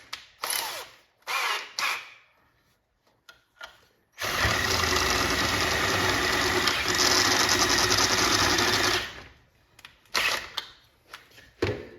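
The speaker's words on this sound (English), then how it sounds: "This drill sucks." A power drill whirs steadily for about five seconds, loud and close, framed by brief bursts of handling noise before and after, while restoring an arcade machine control panel.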